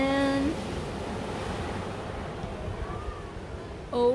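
Ocean waves and wind on an island shore make a steady wash of surf with wind buffeting the microphone, and brief bits of voice at the start and end.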